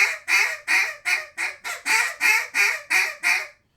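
A duck call blown with a whine or squeal gives eleven quick, evenly spaced nasal honks, each a short bright quack-like burst, close and clear with a brief silence at the end.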